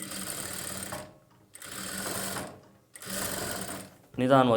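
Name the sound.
sewing machine stitching a boat neck blouse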